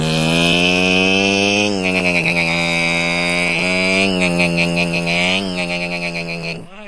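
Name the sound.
child imitating a Yamaha motorcycle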